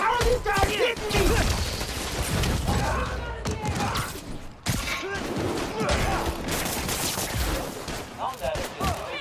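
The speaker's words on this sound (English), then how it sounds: "He's firing on us!" Dense bursts of enemy gunfire during combat in Spider-Man: Miles Morales, rapid volleys and impacts crackling almost nonstop, loud and close, with a brief lull midway before the shooting resumes.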